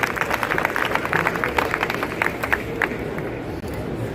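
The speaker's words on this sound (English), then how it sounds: "Let's give them a round of applause." An audience at a restaurant event claps for two guests, a dense patter of many hands that stays fairly even before tapering off near the end.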